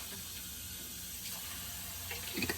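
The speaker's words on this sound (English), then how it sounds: "I'll put a little bit of water in that just to get the goodness from the bottom" Tap water running into a pasta sauce jar, a faint steady trickle and hiss with a few small splashes near the end, no talk.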